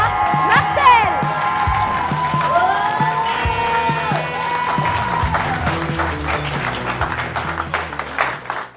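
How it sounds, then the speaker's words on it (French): Audience at a show premiere claps and cheers loudly, with whoops and excited shouts over dense applause, growing busier toward the end. "Merci d'applaudir mademoiselle Anastasia Martel."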